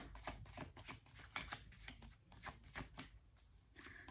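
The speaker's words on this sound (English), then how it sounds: "Let's get some more cards." Tarot or oracle cards shuffled steadily for a card reading, a close, continuous riffling patter with soft repeated flicks and no voices.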